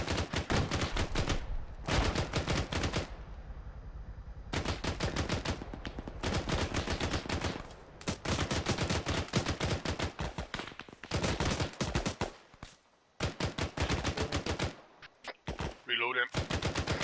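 Sustained automatic gunfire from the military shooter game Arma 3, loud long bursts of rapid shots broken by short pauses, ending in scattered single shots and faint voice chatter near the close.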